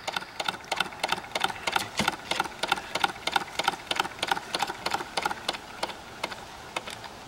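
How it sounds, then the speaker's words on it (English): An antique double solenoid electric motor running, its pistons snapping into the cylinders in a fast, even train of sharp metallic clicks, steady and close. "showing the action of the solenoid pistons going into the cylinders"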